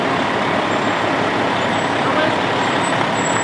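Fire engines, including a 2016 Pierce Enforcer, roll past in a Memorial Day parade, a loud steady diesel rumble and road noise close by, with a faint high whine from time to time.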